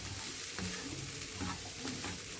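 Onions with peas wilting and browning in a pan for a minced-meat phyllo bake, giving a steady close frying sizzle with a few soft stirring scrapes and no talking.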